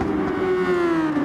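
Super Formula race car engine in a racing video game, a steady high whine holding nearly constant pitch and sliding slightly lower, loud and continuous with no talk.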